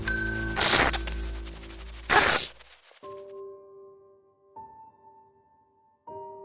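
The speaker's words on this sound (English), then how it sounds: "Ring the bell." Bell ringing in a dark, eerie scene: after two loud scraping bursts, a clear bell tone sounds three times at steady intervals, each ring hanging and fading before the next strike.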